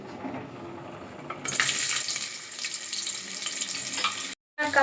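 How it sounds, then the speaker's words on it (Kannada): Onion dropped into hot oil sets off a sudden bright sizzle that jumps in loudness and holds as a steady hiss, briefly cutting out just before the end. "ಇಲ್ಲಿ ಎಣ್ಣೆ ಕಾದಿದೆ ಈಗ ಆನಿಯನ್ ಹಾಕ್ಕೊಳ್ಳಿ"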